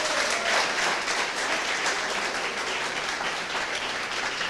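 A church congregation at a pastors' gathering gives a round of applause to the Lord, a broad, sustained roar of clapping that stays loud and even throughout.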